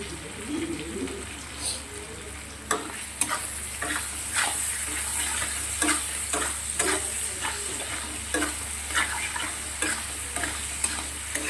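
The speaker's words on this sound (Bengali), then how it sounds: "পেঁয়াজটা বেশ লাল লাল করে ব্রাউন কালার করে নেব ভেজে।" Onions frying in oil with salt, stirred until browned: a steady close sizzle broken by regular scraping spatula strokes throughout.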